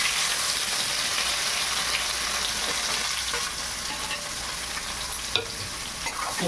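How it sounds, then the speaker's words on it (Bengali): Chopped onions go into fried potatoes in hot oil in a kadai, making a loud, dense, close sizzle with stirring scrapes and one sharp utensil knock toward the end, no voices. "আমি আলুটাকে আর তুলবো না কড়ার থেকে, ওর মধ্যেই আমি পেঁয়াজ কুচিটা দিয়ে দেবো।"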